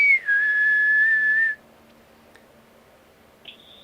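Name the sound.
whistle imitating a maritime vessel whistle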